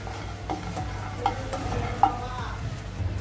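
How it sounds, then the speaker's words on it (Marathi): Grated coconut is dry-roasted and stirred in a pan for Nashik-style misal, with a soft steady sizzle under scraping spatula strokes and a few sharper clicks, close and fairly quiet, with no talk. "हलकस असं भाजायचंय खोबऱ्याला आपल्याला, जास्त जाळू नाही द्यायचंय"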